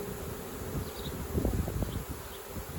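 Dense honeybee buzzing from many bees milling around after being dumped at the hive entrance, a steady close-up drone that swells slightly midway.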